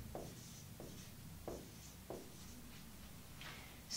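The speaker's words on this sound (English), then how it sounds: "Let's write it down here." Chalk or marker strokes on a board during a Russian language lesson, several short scratchy strokes spaced a second or so apart, close and moderately quiet, with no talking.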